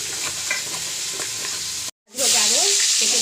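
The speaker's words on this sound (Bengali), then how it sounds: "এবার বেগুনটাকে হালকা করে ভেজে নিই।" Brinjal pieces coated in salt and turmeric fry in hot oil with a loud, steady sizzle, cut by a brief dropout before the crackle returns, with voices faintly present.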